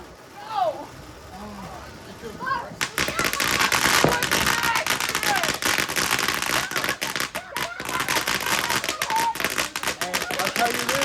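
Fourth of July fireworks and firecrackers go off nearby in rapid, dense crackling bursts after a brief quieter start, loud and continuous, with people talking and shouting throughout.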